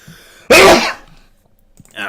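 A single sharp sneeze erupts at a tabletop game session, loud and close, then fades into a brief quiet before a voice begins to speak.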